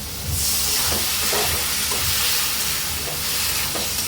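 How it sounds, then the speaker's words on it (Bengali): Ridge gourd and fried coconut cooking in a pan after a splash of water is added: a loud, continuous hissing steam and sizzle with soft stirring scrapes, close and unbroken. "দিয়ে দেব ঝিঙ্গাটা, দিয়ে এবার একটুখানি জল দিয়ে এটা আমি কষাবো।"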